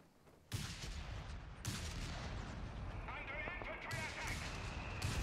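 Mortar fire in a video game: heavy blasts land in quick succession, each a loud booming burst that fills the space and rolls into the next.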